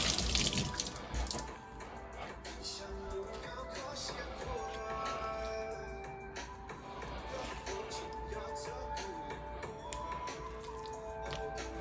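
Tap water runs steadily into a sink while a cutting board is rinsed under it, a continuous close splashing with small clatters and shifts in the flow.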